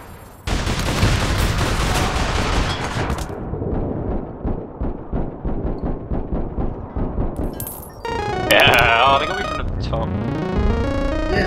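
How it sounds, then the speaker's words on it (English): Rapid-fire pistol shots in the game APB Reloaded, a dense string of sharp cracks that thins into separate shots before other game effects chime in, with talk over the gunfire. "she's got an accurate secondary pistol that's rapid fire"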